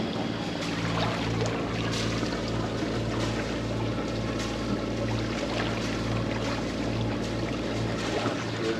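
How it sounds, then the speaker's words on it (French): A sailboat motors under engine power in calm air on a Mediterranean crossing from the Balearics toward Tunisia, a steady low engine drone with water rushing and light wind noise, continuous and close. "Antekum navigue plus sous régime moteur que sous régime voile."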